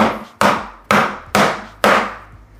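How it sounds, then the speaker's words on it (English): Chicken pounded flat under plastic wrap with a skillet or hammer: five heavy, close thuds land roughly every half second, each a loud dull slam that fades quickly, with no voices. "you cover it in plastic wrap and you can take a skillet or a hammer, whichever one you get, and all you do is just"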